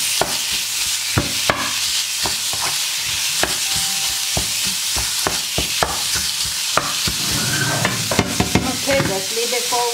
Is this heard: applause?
no